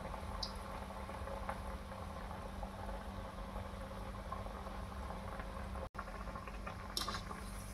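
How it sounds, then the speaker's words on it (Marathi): Matki vadas, fried sprouted moth bean fritters, sizzle and bubble in oil in an iron kadhai, a steady close crackling patter with a faint extra knock near the end and no talk. "या वड्याला छान असं आता मी परतून घेत आहे."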